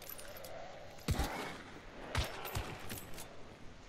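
Gunfire from the video game Hunt: Showdown, a few distinct, fairly muffled shots spaced about a second apart with faint reverberant tails, heard at low volume without talk.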